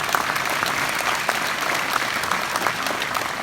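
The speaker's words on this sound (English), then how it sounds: "round of applause for Tanya." Dense, steady applause from a crowd at a 2017 Memorial Day ceremony in Enid fills the whole stretch at an even, fairly loud level, with no talk over it.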